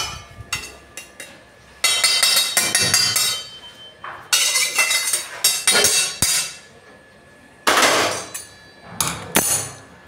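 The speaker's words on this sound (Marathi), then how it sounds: "आपण एका प्लेटमध्ये काढून घ्यायचा आहे।" Roasted semolina for Diwali karanji scraped from a pan onto a plate with a metal spoon, giving bursts of sharp clinks and scrapes against the metal, separated by short pauses.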